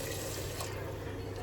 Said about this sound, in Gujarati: જુઓ આપણે પાણી નાખી દીધું છે